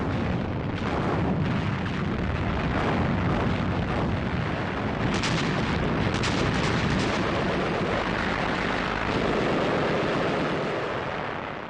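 Sustained wartime artillery bombardment during the Allied offensive against Axis and Rommel's defences in North Africa, a dense continuous roar of booming blasts and rumbling fire with sharper bursts mid-way, loud and with no speech.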